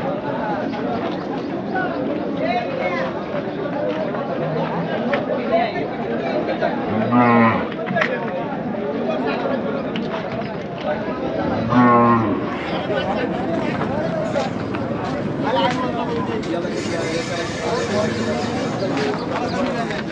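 Cattle moo a couple of times amid a busy outdoor crowd at the Chakan bullock market, with people chatting and calling throughout a noisy market scene.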